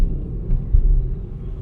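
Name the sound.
bus speeding past on the road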